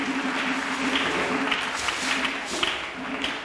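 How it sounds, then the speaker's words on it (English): Audience clapping for Jesus at a church gathering, a steady wash of many hands sustained throughout at moderate level, with faint voices beneath. "Let us clap for Jesus."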